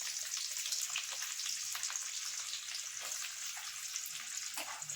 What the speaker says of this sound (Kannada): ಸಾಸ್ವಿ ಜೀರಿಗೆ ಸ್ವಲ್ಪ ಚಟಪಟ ಅಂತ ಸಿಡ್ಲಿಕ್ಕಿತ್ತಾವೆ ನೋಡ್ತಿರ್ಬೋದ್ರಿ ರೀ ಯಾವ ರೀತಿ ಸಿಡ್ಲಿಕ್ಕಿತ್ತ ಅಂತೇಳಿ ಈ ಟೈಮ್ನಾಗ ನಾ ಇದಕ್ಕೆ ಉಳ್ಳಾಗಡ್ಡಿ ಹಾಕೋತೀನಿ